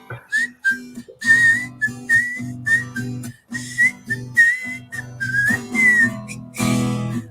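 Clear, fairly loud whistling in a run of short rising and falling phrases, each note sharp and bright, with no talking over it.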